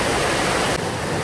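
A mountain waterfall on Gariwangsan in a mossy valley with heavy flow, a dense, loud, continuous rush of falling water, close and steady, with no voices.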